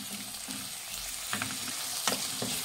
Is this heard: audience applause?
no